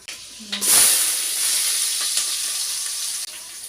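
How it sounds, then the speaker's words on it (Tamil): Fenugreek seeds drop into hot oil and burst into a loud hiss that settles into a steady sizzle, close and alone for a few seconds before cutting off abruptly. "எண்ணெய் சூடாகிட்டு வெந்தயம் சேர்த்துக்கிறேன்"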